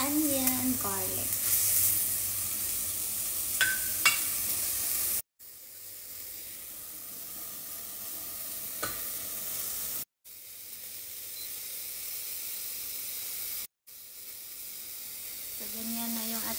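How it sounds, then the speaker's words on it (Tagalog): Onion and garlic sauté in meat fat rendered from the meat itself, giving a steady hiss and sizzle in the pan with a few brief cuts and light stirring clinks. "Yung ating karne, nagisa na niya sa sarili niyang taba. So, ilagay na natin yung onion, garlic."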